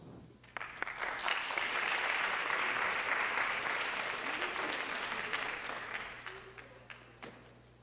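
A school audience at East High School breaks into warm, sustained applause as students are welcomed to the stage, clapping rising quickly and then slowly tapering off over several seconds.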